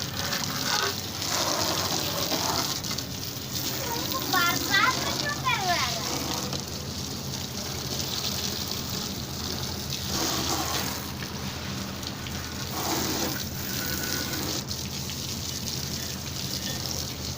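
Running water gushes steadily over a dirty motorbike being washed, a continuous loud broadband spray that holds for the whole stretch with small surges, while voices talk intermittently underneath.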